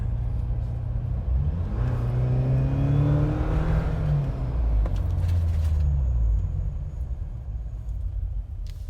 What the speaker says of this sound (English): roar that the exhaust is now making